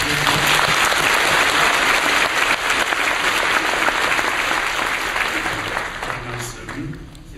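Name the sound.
welcome applause for a visiting pastor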